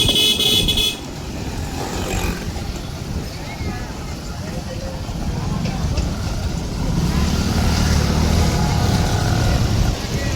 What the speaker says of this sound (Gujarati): બાઈક ચાલતી